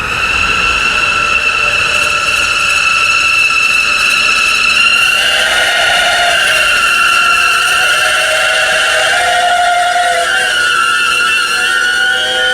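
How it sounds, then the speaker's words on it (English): A West Midlands Railway Class 196 train on a test run lets out a loud, sustained, high-pitched brake squeal over a steady rumble of wheels and motors throughout. "Class 196s for West Midlands Railway are currently on test runs, and may I say, they sound incredible."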